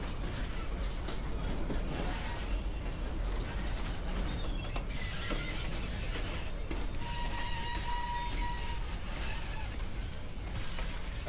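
Historic tourist train running on rails at Virginia City, a steady mechanical rumble with creaking and ratcheting clatter, a faint squeal rising midway, continuous and moderately loud throughout.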